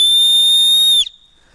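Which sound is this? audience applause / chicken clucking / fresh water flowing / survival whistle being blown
survival whistle being blown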